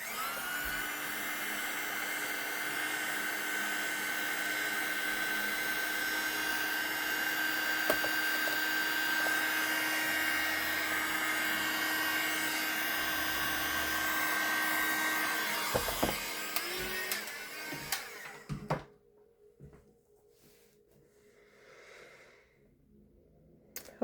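A dryer blows a steady, loud whir over watercolor paint on a bookmark for about fifteen seconds, then clicks off, leaving faint handling taps and rustles in a quiet room.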